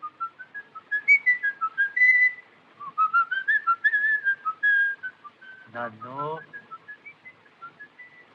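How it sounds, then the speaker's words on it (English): Whistling of In the Hall of the Mountain King from the film M, a clear lone melody in short staccato notes rising in pitch, close and bright, with a brief voice interrupting near the end. "the murderer's predilection to whistle in the Hall of the Mountain King in M became the defining moment for the tune"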